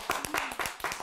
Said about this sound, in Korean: 웃는 거! 박수!